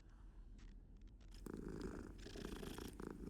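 Cat purring in the video game Hogwarts Legacy, a soft rumbling purr that grows louder and fuller about halfway through, continuous and close, with faint clicks early on and no speech.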